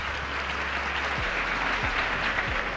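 An audience applauding after a speech, a steady dense clatter of many hands that holds at an even level throughout, with no voices over it.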